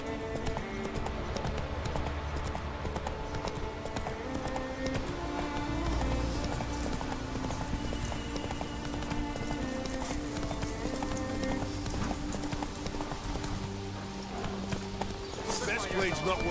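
A horse in The Witcher 3: Wild Hunt gallops with a steady, rapid rhythmic clip-clop of hooves that continues throughout, under game background sound and a person talking.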